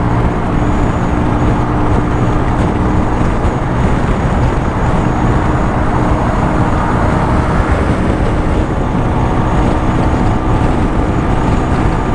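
A Superlight 125 motorcycle cruises on a highway, its engine drone buried under loud, constant wind roar and road noise with no breaks or talk.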